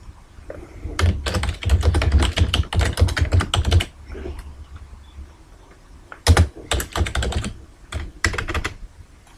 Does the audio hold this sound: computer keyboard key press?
yes